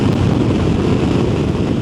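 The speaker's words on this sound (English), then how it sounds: "The wind just batters through" Strong wind roars against the microphone of motorcycle riders crossing an exposed, treeless Scottish mountain pass at about 55 mph, a loud, constant buffeting rush with no voices.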